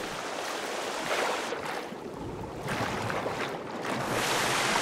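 Swimming in water near a waterfall in Sons Of The Forest, a broad rushing, splashing wash of water that rises and falls in loud bursts across the clip, with no speech.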